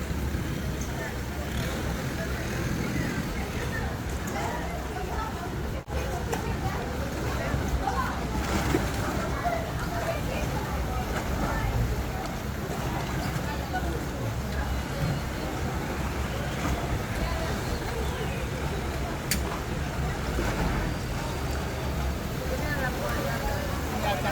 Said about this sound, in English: Another boat backing in.